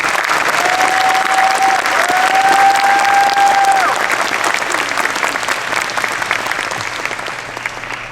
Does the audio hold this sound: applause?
yes